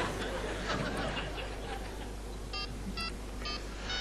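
A few quick phone dialing tones near the end, heard over a noisy background with faint chatter.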